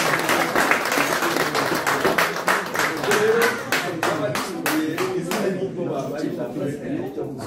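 Audience applause at a gathering of activists in Belgium: dense, steady clapping from many hands that fills the whole stretch, with voices and a few cheers mixed into it.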